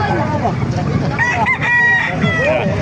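A rooster crows loudly and close by at a poultry market in Calumpit, Bulacan, with a long rising call in the middle of the clip and other fowl and voices faintly in the background.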